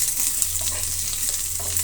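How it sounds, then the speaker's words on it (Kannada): Onion, fresh curry leaves and garlic frying in a pan, a steady close sizzle with light stirring, no voices. "ಫ್ರೈ ಮಾಡ್ಕೊಳ್ಳೋಣ ನೀಟಾಗಿ."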